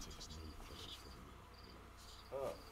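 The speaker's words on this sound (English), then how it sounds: "Do we have an unexpected visitor? We have a guest. It's a fucking cricket." Cricket chirping in the Disco Elysium video game: faint, steady high-pitched trills in short bursts over a quiet ambient background, with no speech.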